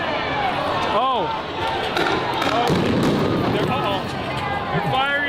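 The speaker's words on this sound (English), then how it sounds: "So the police are just shooting rubber bullets into the crowd." Police fire rubber bullets into a crowd during a street protest, giving sharp scattered pops over a dense, loud roar of crowd noise and overlapping voices.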